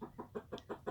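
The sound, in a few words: hen clucking loudly in a chicken coop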